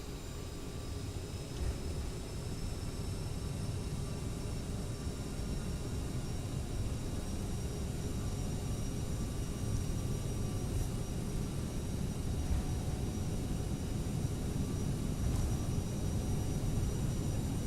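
Jet airliner engines in a flight simulator spool up to takeoff thrust as a steady, broad roar with a faint high whine, holding constant and loud throughout with no voices.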